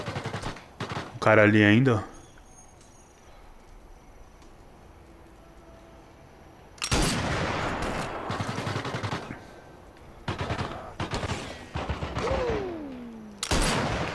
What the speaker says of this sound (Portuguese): É muito bom dar tiro, velho, com os rifles também. Rifle e SMG.